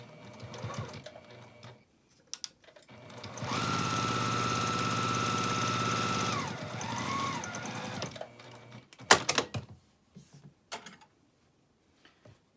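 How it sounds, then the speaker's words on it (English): A sewing machine runs steadily for about five seconds, stitching a fabric band onto the top of a pixie basket with a 1/4 inch seam, bracketed by quiet handling clicks and fabric rustle before and after. "we're just going to sew this little band onto the top with a 1/4 inch seam"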